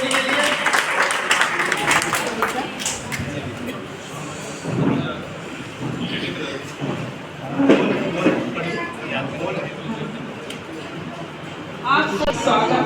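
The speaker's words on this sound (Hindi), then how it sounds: "एक बार जोरदार तालियां बजाएं" A crowd claps in an uneven burst of applause for a poet at a book launch and poetry gathering, with a voice speaking over the clapping.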